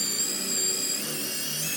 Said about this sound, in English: it is time to drill